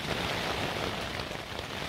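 Heavy rain drums steadily on a Naturehike Opalus 2 tent pitched under a large plum tree, a dense, continuous hiss and patter close around the shelter with wind in the storm.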